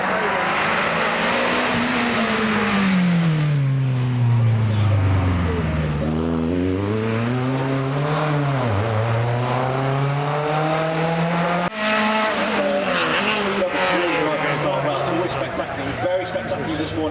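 A stripped-out race car with a rear diffuser climbs the Prescott speed hill climb, its engine note rising and falling through gear changes, loud and sustained, while a commentator talks over it.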